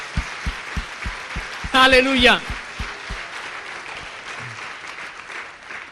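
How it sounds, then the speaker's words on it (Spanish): A church congregation applauds steadily throughout a sermon, while a voice calls out briefly over the clapping partway through. "Dale un aplauso más fuerte al Señor Jesucristo"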